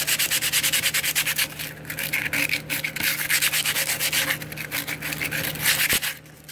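A boat part is roughed up by hand sanding ahead of epoxy, a loud steady rhythmic rasp of quick back-and-forth strokes with a brief pause near the end.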